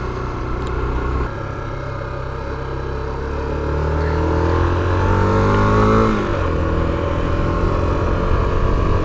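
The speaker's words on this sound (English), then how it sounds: "rev the bike up and then go back down to idle" A dual sport enduro motorcycle engine revs up loudly, its pitch climbing steadily to a peak, then drops back down to a rough idle, close and alone.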